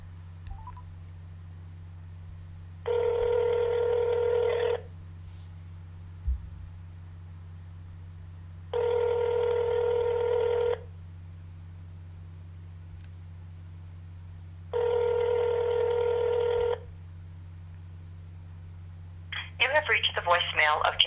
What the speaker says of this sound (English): it is December 14th, 2015, 1 p.m., calling Janet Mohr